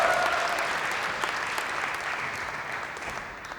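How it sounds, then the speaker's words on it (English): Steady applause from a demo day audience at an accelerator program event in Georgia, dense and continuous clapping that fades slightly toward the end. "another big round of applause from us because he powered through without his mic."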